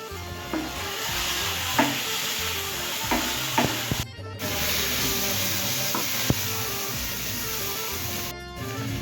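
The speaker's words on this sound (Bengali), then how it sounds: "ভালো করে বোয়াল আর বেগুনটার কুটি ভাজাটাকে ভেজে নিয়েছি" Boal fish and chopped eggplant fry together in hot oil, a steady loud sizzle running throughout with intermittent scraping and stirring knocks from a utensil in the pan.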